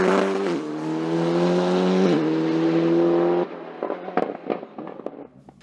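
An Alpine race car in the Série Production class at the Col Saint-Pierre hill climb near Saint-Jean-du-Gard: a loud, steady engine note holds, then cuts off, followed by sharp popping crackles as the car moves away.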